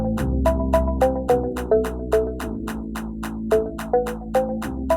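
Remix build-up made from a female vocal chopped over percussion: sustained sung notes step through short melodic phrases above steady rhythmic hits and a deep bass bed, loud and continuous with regular pulsing accents.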